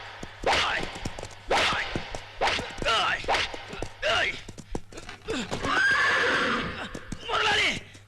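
A horse neighs and whinnies loudly in a long shrill call while refusing to move, with whip cracks, hoof clops and people talking around it in a lively film scene.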